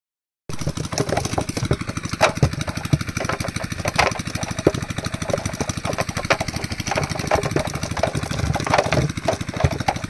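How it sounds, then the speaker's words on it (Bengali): An engine-driven machine runs beside a small fishing pond with a loud, steady, fast-pulsing chug that starts abruptly after a moment of silence and continues without letup. "মেশিন চলছে, মেশিন ছেড়ে দিলাম।"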